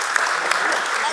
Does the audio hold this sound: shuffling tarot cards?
no